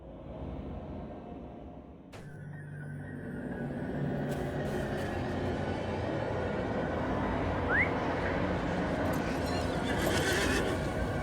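Horses neighing in the video game LOTRO at the entrance to the Paths of the Dead: a drawn-out whinny over a steady dark, droning ambience, with hoof clops and shifting noises, fairly close.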